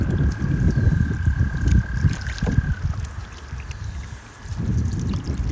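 Steady wind rushes and rumbles while a canoe is paddled on open water. The gusts are low and blustery and swell and fade, with faint water sounds beneath and no talking.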